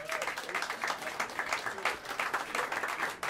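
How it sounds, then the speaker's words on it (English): A jazz club audience applauds the drummer, with dense, lively clapping and some crowd noise that swells and holds steady throughout. "About a round of applause for him."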